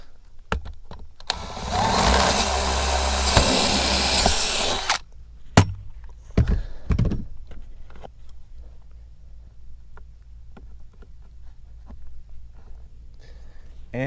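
Hammer drill boring a new hole beside an old one while wiring a three-way switch, a loud steady grinding burst for about five seconds, followed by scattered knocks and clatter.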